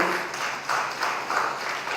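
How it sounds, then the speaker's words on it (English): A round of applause from the audience at an executive enrichment programme session, a brief, moderately loud wash of many hands clapping that swells and dips slightly. "Shall we give a round of applause?"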